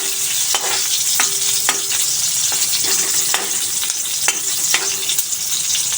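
Onion sizzling and frying in a pan, a steady bright crackle with repeated sharp stirring scrapes and clicks, close and loud with no voices.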